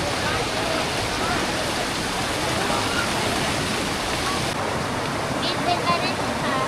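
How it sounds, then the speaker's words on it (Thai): A waterfall pours steadily during a stop on an ATV ride in Phatthalung, Thailand, a loud, dense, continuous rushing roar with no break, heard close by. "พักเล่นน้ำตกครับ หลายพัก เล่นน้ำตกเลย"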